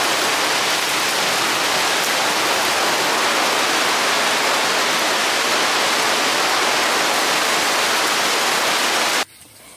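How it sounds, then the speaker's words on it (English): A normally dry stream bed beside a garden, turned into a raging torrent after a rainstorm, gives a loud, constant, dense rushing roar close by, cutting off sharply at the end. "A normally dry stream bed that runs down the side of our garden becomes a raging torrent after any rainstorm"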